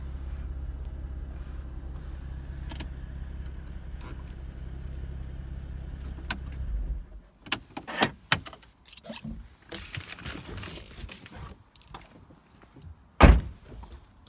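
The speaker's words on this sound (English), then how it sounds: "Car's got a full electric roof." BMW Z4 convertible's full electric roof in operation: a steady low motor hum for about seven seconds, then a series of clunks, latches and mechanical knocks as the top locks into place, with one loud sharp thud near the end.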